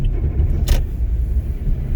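A car drives along a clear, lightly icy 50 km/h winter road in Oshawa during a driving test route, giving a steady low engine and tyre rumble with a brief higher rustle midway.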